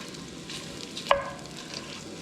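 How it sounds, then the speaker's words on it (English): Italian sausage browning in a pot, giving a soft, steady sizzle with one brief sharper pop or scrape of a utensil, close by and quiet, with no voices. "And we're going to brown up the sausage."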